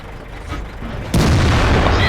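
A tank cannon fires in a tank video game, a sudden loud boom that cuts in abruptly and rings on as a dense, sustained blast.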